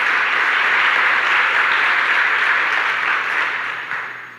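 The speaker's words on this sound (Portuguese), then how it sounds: "Dá uma forte salva de palmas para Jesus" A church congregation claps for Jesus during a sermon, steady dense applause from many hands sustained throughout, thinning slightly toward the end, with no talk over it.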